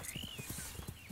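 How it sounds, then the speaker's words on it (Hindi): Horse hooves clip-clop in the western game Red Dead Redemption 2, a quick, rhythmic patter of close thuds with a faint whinny-like tone woven through and no voices. "तो अभी अपना घोड़ा आ चुका है"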